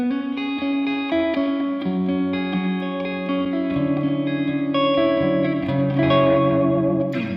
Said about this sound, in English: Let's put some reverb on there because it sounds pretty nice on the clean, and just show you what the tail of the reverb is like